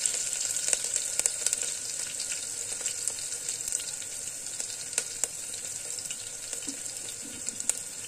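Green chilies frying in a pan, a steady bright sizzle with small pops and crackles throughout, close and continuous with no voices.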